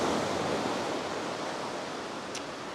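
Ocean surf washing in at Kure Beach Pier on the Carolina coast, a steady broad rush of waves with no distinct single break, fairly constant in level and heard alone without talk.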